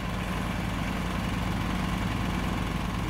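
A Kubota tractor engine idles on a farm with a steady, loud, low rumbling chug that holds evenly throughout, with no voices.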